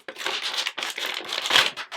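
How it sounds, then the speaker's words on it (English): Clear plastic packaging crinkles and crumples close up as a Hasbro Marvel Legends Apocalypse action figure is pulled free, in several quick crackling bursts with short pauses between them. "sorry for all that plastic crumpling"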